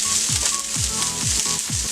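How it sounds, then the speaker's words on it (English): Chicken sizzling steadily in a hot pan as half a lemon is squeezed over it, a continuous loud frying hiss with repeated low scraping or stirring strokes roughly every half second. "Now I'm going to go ahead and squeeze my lemon."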